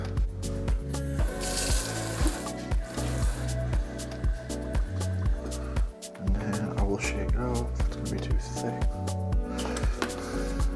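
Tap water runs steadily into a protein shaker in a home kitchen, a continuous splashing flow lasting several seconds with some louder rhythmic sounds mixed over it.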